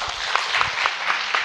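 Audience applauding three panelists at the close of a panel discussion at an AI conference, a steady dense wash of clapping with a few louder claps standing out, no voices.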